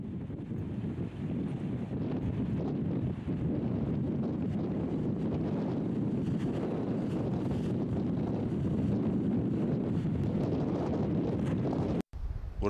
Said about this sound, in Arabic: والريح راها قوية وطاحت الشتاء بزاف